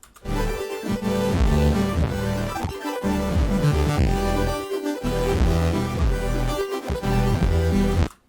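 A buzzy, bright synth bass with a resynthesized saw wave timbre plays a rhythmic pattern of sustained notes with short gaps between phrases, loud and upfront with no other sounds.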